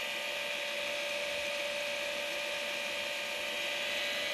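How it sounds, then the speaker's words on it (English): A brushless motor on a BT30 spindle with an aluminium adapter plate spins steadily on a test run, giving a continuous high whine with a stable tone, close and unchanging throughout. "This brushless motor runs super nice actually."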